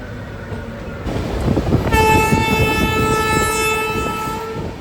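A Kolkata Metro train passes near Dum Dum with a steady rumble of wheels on rails, and a loud sustained horn sounds partway through over the continuing roar.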